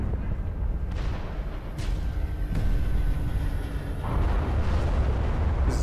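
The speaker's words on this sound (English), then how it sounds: "He's detonated one of the reactors on High Charity." A reactor explosion on High Charity in Halo 3 rumbles as a sustained, dense low roar, with sharper blasts near the two-second and four-second marks, loud and continuous throughout.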